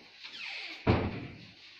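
An indoor door swings shut in a home, ending in one firm thud near the mic after a brief quiet creak or swish, with a faint tail of room reverb.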